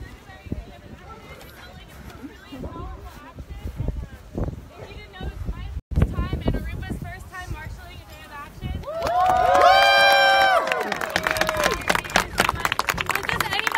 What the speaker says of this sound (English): There's a big crowd behind me.